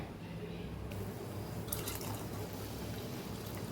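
Water poured from a small bowl into a pot of Kathiyawadi urad dal being cooked for dal tadka, a steady close liquid rush that continues without pause for several seconds.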